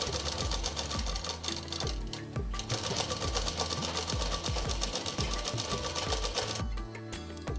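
A tailor's sewing machine stitches the rounded sleeve seam of a plain frock, running steadily and close by with a busy mechanical chatter through the whole stretch.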